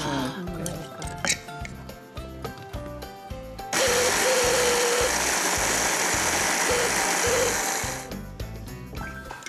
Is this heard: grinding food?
yes